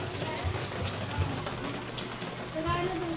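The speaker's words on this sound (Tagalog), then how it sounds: "it's raining here" Rain falls in a steady, soft patter on surfaces nearby, under people talking and a few dull thumps.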